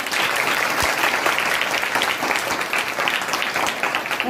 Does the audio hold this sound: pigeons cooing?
no